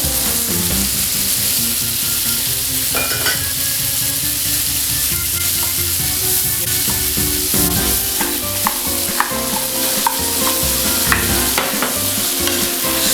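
Paneer cubes fry in a hot pan and are stirred, giving a steady, close sizzle with scraping and clattering strokes throughout and no talking.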